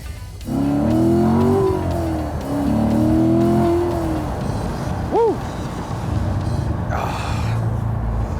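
A 2015 Chevrolet Corvette Stingray Convertible engine roars loudly up close, revving hard twice in surging bursts, with a brief high squeal and a fading drone afterward.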